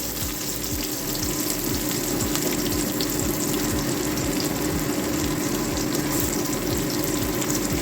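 Onion frying in a pan for Bengali dahi tadka, a dense, constant hiss and crackle that stays loud and even from start to finish, with no talking over it.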